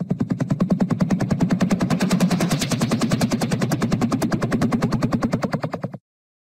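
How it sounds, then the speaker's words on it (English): Attack helicopter gunfire, a loud, close burst of rapid machine-gun fire that runs as one evenly spaced stream of shots for about six seconds and then stops abruptly. "Attack helicopter."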